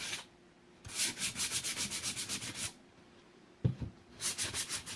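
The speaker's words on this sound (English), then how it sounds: "I usually only use the sandpaper on the wood" Sandpaper rubbing by hand over painted wood furniture to distress it, heard as two bursts of quick, rhythmic back-and-forth scratching strokes with a pause and a brief knock between, close and fairly quiet.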